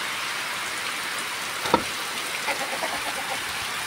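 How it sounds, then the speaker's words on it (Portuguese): Heavy rain pours down steadily on a farm in Jucás, a dense close hiss with a few louder drips and faint fowl sounds, no talk. "Sítio Serraria caindo uma chuva grande aí agora."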